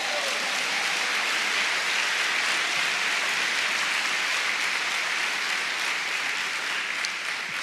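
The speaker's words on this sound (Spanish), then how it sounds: "Dele palmas al Señor." A church congregation claps its hands in praise, a dense, steady wash of applause that holds evenly throughout without voices standing out.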